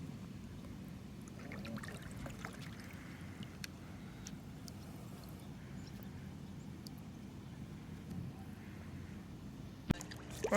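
A kayak moves along a river under faint, low watery wash and gentle sloshing, with scattered small drips and a light knock near the end; fairly quiet and steady, with no voices.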